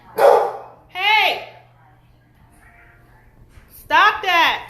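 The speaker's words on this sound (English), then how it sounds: "Who are you barking at?" Dog barking indoors in a home: two sharp, loud barks in quick succession, a quiet pause with faint whimpering, then two more close barks, with no one talking.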